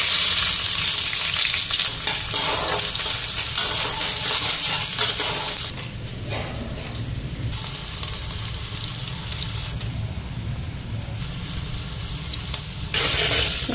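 Onions and green chilies frying in hot oil, a dense close sizzle with stirring scrapes and clinks, dropping briefly quieter in the middle before swelling again.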